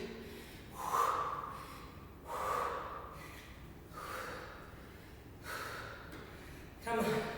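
Heavy, loud breaths right after a jump rope round in a Tabata workout, coming in about five big gasping inhale-exhale bursts spaced a second or two apart.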